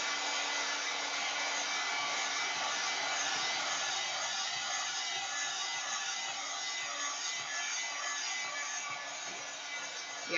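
A hair dryer blows steadily over a designer bag painted with a cityscape, a continuous even whoosh that holds at a constant level for the whole stretch with no talking.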